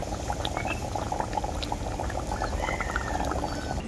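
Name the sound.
fish curry gravy boiling in a pan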